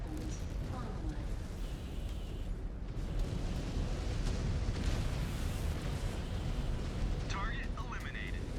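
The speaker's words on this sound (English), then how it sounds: "That reactor's going to blow." A mech's reactor blows up in MechWarrior 5, a deep, sustained rumbling roar of explosion and debris with crackling bursts near the end, under steady game audio.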